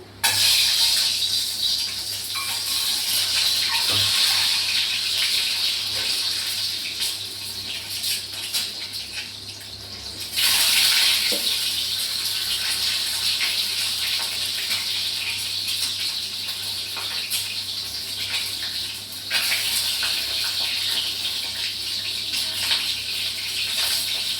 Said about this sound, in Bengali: আমার এইদিকে তেলটা আমার গরম হয়ে গেছে, আমি ডিমগুলো ছেড়ে দিচ্ছি।